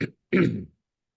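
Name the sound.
coughing and throat clearing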